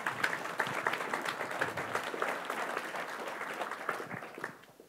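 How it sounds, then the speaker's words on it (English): An audience claps after a conference talk, a dense, even patter of many hands at moderate distance, fading out toward the end. "Yes, applause."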